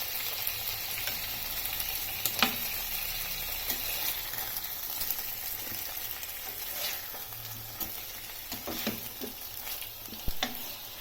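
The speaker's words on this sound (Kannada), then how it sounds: "ಕಾದಿರೋ ಹಂಚಿಗೆ ಒಂದೊಂದೇ ಫಿಶ್ ಹಾಕೊಳ್ಳೋಣ." Fish pieces frying in a little oil on a hot tawa, giving a steady, even sizzle with scattered pops and light crackles throughout.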